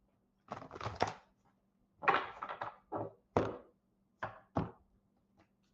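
Cards shuffled for a reading, a series of soft, papery bursts and riffles in uneven groups, close and fairly quiet, with short pauses between.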